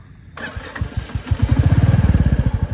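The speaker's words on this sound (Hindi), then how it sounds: "मैं इसको स्टार्ट करता हूँ बाइक को" A motorcycle engine is started close by: after a short starter crank, it fires and settles into a loud, steady, rapidly pulsing idle.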